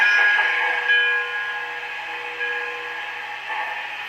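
A steam-style train whistle sounds near a grade crossing on a Pennsylvania Railroad themed layout, one sustained, steady multi-tone blast that holds and wavers slightly before easing off, clear and fairly loud.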